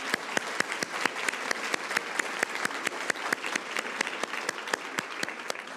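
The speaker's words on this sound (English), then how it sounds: "Let's give them another round of applause." An audience claps for a trombone quartet at a Match Day ceremony, a fairly quiet, steady ovation with a few sharp, distinct claps standing out above the wash.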